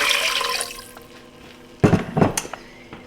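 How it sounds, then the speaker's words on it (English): Water is poured into a soup pot for a creamy Zuppa Toscana, a short loud splash and gurgle after a quieter start, with a few clinks of the pot. "now we're going to go ahead and add in 3 cups of water"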